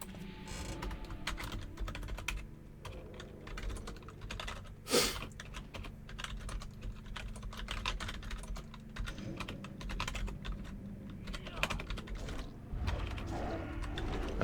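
Typing on a computer keyboard during a live World of Warcraft Classic Hardcore session, a steady run of close, rapid key clicks with one sharper loud clack, heard alone with no talk.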